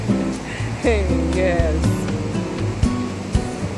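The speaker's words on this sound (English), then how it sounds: "I hope you all enjoyed that little bit of the ocean, the sound of the ocean and the view" Ocean surf on the shore in Ghana, West Africa, a steady washing roar with low rumbling swells beneath a voice speaking close by.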